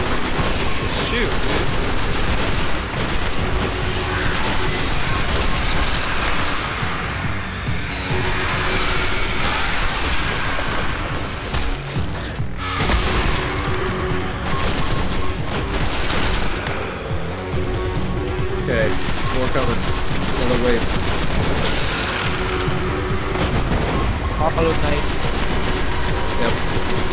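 Gunfire in the shooter game Destiny, dense and continuous, mixed with droning aircraft-like engine noise and a steady roar, with a voice speaking over the action throughout.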